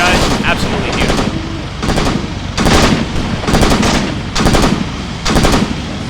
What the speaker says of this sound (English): we're firing at that German position right there